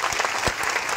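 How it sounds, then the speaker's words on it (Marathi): A crowd at a Banjara community rally in Jalna claps in a brief, dense burst of applause, close and loud. "तर टाळ्या वाजवायचा बंजारा समाजासाठी"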